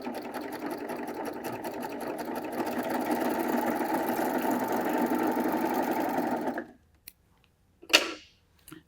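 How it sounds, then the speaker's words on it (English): A serger running a 4-thread overlock across lining fabric, a fast steady mechanical whir close up for several seconds before stopping, followed by a brief clunk. "still using the 4-thread overlock, just going to serge across the end of the bag for the lining fabric."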